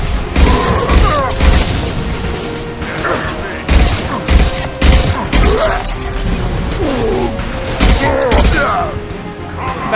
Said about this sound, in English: This is a pretty powerful gun